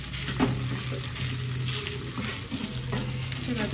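Cooked rice is stir-fried in a hot pan, giving steady close sizzling and frying with soft scraping stir strokes throughout.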